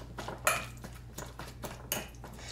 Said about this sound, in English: Mix this all up.